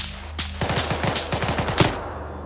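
Gunfire in a tactical video game, a rapid close burst of automatic shots lasting about a second and a half, loud and dense.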